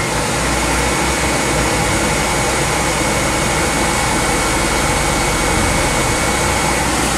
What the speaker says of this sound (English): when you push in the lighter, the blower comes on